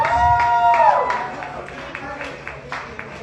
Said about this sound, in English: let's give that fitting, noisy ending a cheer for Gina Tell, our 7th contestant.